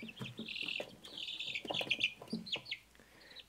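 Young chicks peep and cheep in a brooder, one of them larger than the rest, with rapid high chirps coming in quick bursts, close and fairly loud, with no voices.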